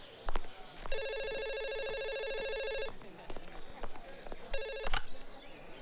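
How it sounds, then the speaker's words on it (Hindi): A telephone rings in a long trilling burst, then starts a second ring that is cut short, with faint background noise and thumps around it. "हाँ पायल, अरे मैं तुम्हारे फोन का इंतजार कर रहा था।"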